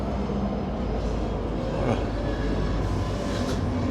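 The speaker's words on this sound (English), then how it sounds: "That train's taking off." A departing train rumbles in a steady, broad low roar on a breezy winter day at a rail crossing in central Wisconsin, heard from some distance with wind noise throughout.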